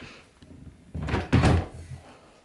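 A bedroom dresser drawer pushed shut, giving two short wooden thumps close together, the second one louder, in a quiet indoor room.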